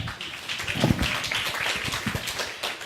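Applause from a demo day audience for a presenting team, a scattered, moderately loud patter of many hands clapping across the room, sustained throughout.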